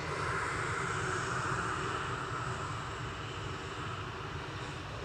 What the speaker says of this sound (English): That's A380. Engine 1 is starting.